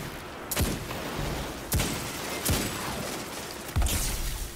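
Fully automatic pistol fire in the Destiny 2 video game, several loud bursts of rapid shots at irregular intervals over a constant dense background of game noise.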